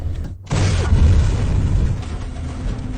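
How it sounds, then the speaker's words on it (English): A rocket launcher fires in The Dark Knight, a single deep, loud boom that bursts in after a brief near-silence and rolls on as a sustained rumble. "A rocket launcher."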